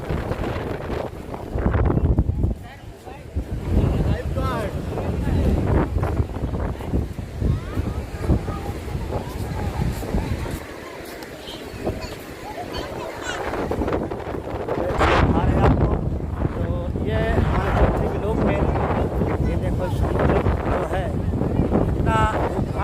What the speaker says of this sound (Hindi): और इस समय लहरें उठ रही हैं